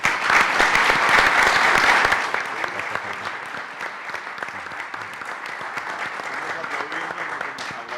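Audience applause for a panel of economy ministers at the opening of a finance seminar, a dense burst of clapping that is loudest in the first two seconds and then continues more softly and steadily.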